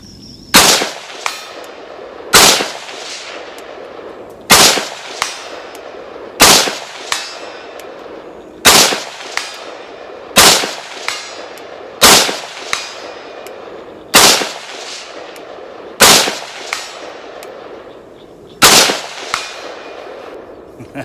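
Rifle shots ring out outdoors toward targets 200 yards uphill, about ten loud, sharp reports spaced roughly two seconds apart, each followed by a short fading echo.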